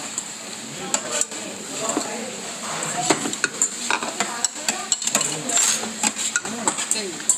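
Udon noodles and vegetables stir-fried in spicy dakgalbi sauce on a Chuncheon-style chicken dakgalbi griddle at a restaurant in Gapyeong: a loud, busy sizzle with frequent sharp spatula clanks and scrapes, and faint chatter in the background.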